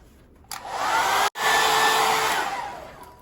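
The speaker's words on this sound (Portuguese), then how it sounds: "Se você tiver um secador, só passar aqui um pouquinho fora e dentro, no morno, que já amolece pra gente poder ter facilidade de desvirar." A hair dryer on a warm setting blows steadily onto plastic to soften it, a loud continuous whoosh that cuts out for an instant and then resumes, with no talking.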